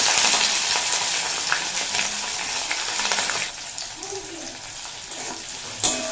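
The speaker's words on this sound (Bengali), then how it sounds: "পেঁয়াজটা ভেজে নেব" Chopped onion frying in mustard oil with whole cumin seeds, a steady loud sizzle and hiss that eases partway through, with occasional utensil clinks from stirring and a sharp tap near the end.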